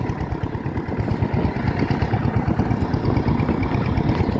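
A walking tractor engine chugs steadily at close range in rural Thailand, a continuous low rhythmic putter with no talking.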